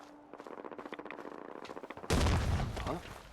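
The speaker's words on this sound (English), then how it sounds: "They're fighting Mirelurks." Settlers fire guns while battling Mirelurks in Fallout 4: a quick run of rapid, evenly spaced shots, then a sudden loud burst of heavy overlapping gunfire that continues to the end.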